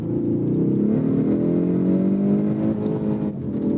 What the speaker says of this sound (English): Oh my god, that was a very, very rough shift.